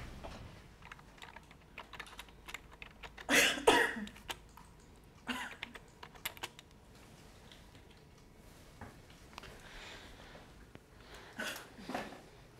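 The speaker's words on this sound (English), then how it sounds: "it's just a cough" A couple of sharp coughs stand out over quiet, soft tapping like keyboard typing, with little else in the background.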